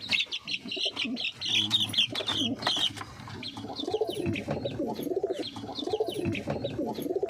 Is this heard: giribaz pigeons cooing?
yes